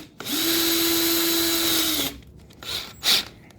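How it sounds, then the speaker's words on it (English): A hammer drill with a concrete bit whirs loudly at a steady high pitch for about two seconds, then stops abruptly, followed by two short quieter bursts near the end. "This is just a drill that has the hammer drill to it"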